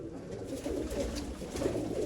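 Pigeons, a pair of antique-quality birds kept for sale, coo in soft, low, rolling murmurs close by, continuous and fairly faint.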